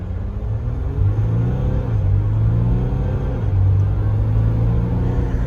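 A Jeep Wrangler EcoDiesel pulls away from a stop, its diesel engine giving a steady, loud low rumble heard from inside the cabin that climbs through a couple of gear changes, with no talking.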